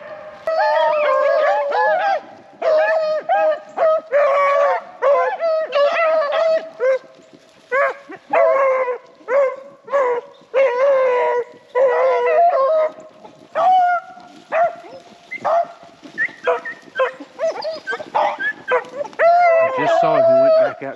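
Beagles bay and yelp in a loud, near-continuous chorus while chasing a rabbit through a South Carolina swamp, the howling voices rising and falling in overlapping bursts with brief gaps.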